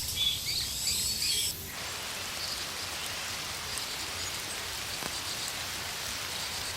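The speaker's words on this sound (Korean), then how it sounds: "기습적인 폭우는 예기치 못한 상황을 만들었죠." Sudden heavy rain pouring down in an outdoor setting, a dense steady hiss of falling drops that continues throughout, with a louder burst at the start and faint bird chirps mixed in.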